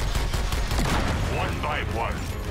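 Loud, continuous gunfire from a shotgun in the video game Suicide Squad: Kill the Justice League, blasts blurring together amid game effects for a couple of seconds.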